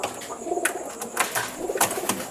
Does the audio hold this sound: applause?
no